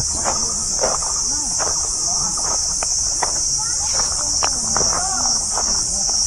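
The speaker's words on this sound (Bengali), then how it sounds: "চারিদিকে পুরো ঝিঝি পোকার ডাক," Crickets chirp in the forest of the Khayerbari tiger reserve with a loud, unbroken high-pitched trill throughout, joined by scattered footsteps and faint rustling nearby.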